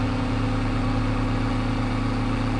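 Steady tractor engine drone in Farming Simulator 22, a constant low hum with no change in pitch, loud and close throughout with no voices.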